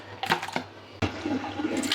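Rice-washing water poured over raw mutton pieces in a bowl while cooking mutton kulambu, two short splashy gushes of liquid, the second longer and more sustained, close and fairly loud with no talking.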